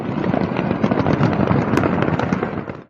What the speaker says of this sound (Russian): В результате мощного взрыва на заводе пиротехники Huaseng Fireworks в городе Люян в провинции Хунань